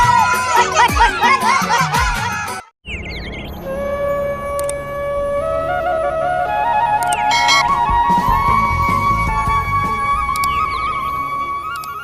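A busy crowd at the LDP 7.0 event in Raipur, Chhattisgarh makes a dense, loud wash of chatter, shouts and laughter, with tonal music or electronic tones running through it and a brief drop near the three-second mark.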